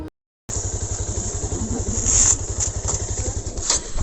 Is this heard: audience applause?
no